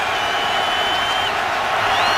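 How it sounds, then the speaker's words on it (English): Stadium crowd at Paul Brown Stadium during an NFL football game between the Bills and Bengals, a steady loud roar of many voices filling the whole stretch without a break. "the crowd making some noise at Paul Brown Stadium"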